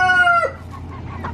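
A rooster crows once, a loud harmonic call that drops off after half a second, followed by softer clucking and farmyard noise.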